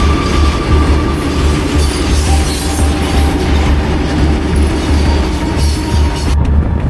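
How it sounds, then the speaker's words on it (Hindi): A train passes a railway crossing in Haryana at night, a loud, steady rumble of wheels and wagons rolling close by with continuous metallic clatter for the whole stretch. "ट्रेन भी निकल गई है अब।"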